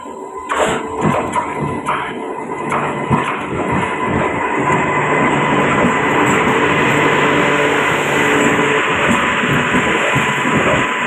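A moving passenger train rumbles along, loud and close, with rattling, clanking wagon noises and rhythmic knocks early on that build into a steady roar of wheels on rails, with no talk over it.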